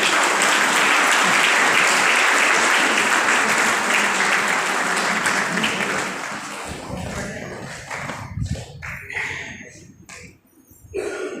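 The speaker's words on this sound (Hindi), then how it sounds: "तालियां बजाकर उनका स्वागत करेंगे" Dense, loud applause from an audience welcoming Miss Haryana at a Buddhist society gathering, sustained for several seconds before thinning into scattered claps, handling noises and background murmur.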